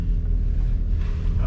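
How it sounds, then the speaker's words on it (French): A 2013 Audi A3 8V with the 105 hp TDI diesel and S tronic gearbox, engine still not fully warm, gives a steady loud low-pitched rumble and drone throughout, with no talking. "on remarque tout de suite une chose sur cette Audi A3, c'est que c'est assez bruyant"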